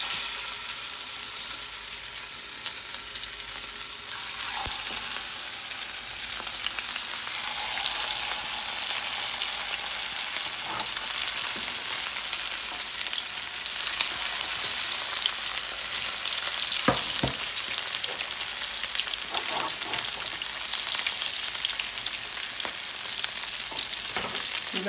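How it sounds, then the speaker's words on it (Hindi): Beef masala kebabs fry in a pan over a medium flame, a continuous close hiss of sizzling oil with occasional pops and soft stirring clicks, steady for the whole stretch. "बना के मैं लगी फ्राई करने"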